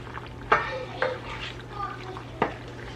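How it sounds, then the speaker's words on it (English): Soup is stirred in a pot, a few distinct clinks and scrapes of a utensil against the pot over a faint low hum, close by with a little background voice. "Now it's time to stir this soup."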